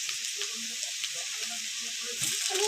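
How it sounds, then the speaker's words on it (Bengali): Chopped tomato and green chilli hiss and sizzle steadily in a pan of fried onions, a close, continuous crackle with faint stirring scrapes and no talk. "চলো টমেটো আর কাঁচা লঙ্কাটা খুব ভালোভাবে ভেজে নেব"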